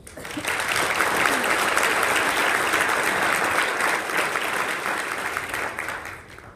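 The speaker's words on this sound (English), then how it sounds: "Tom Frieden deserves a round of applause" Audience applause at a Health in Africa event in Atlanta, Georgia: a dense, steady wash of many hands clapping that swells quickly, holds loud for several seconds and tapers off at the end.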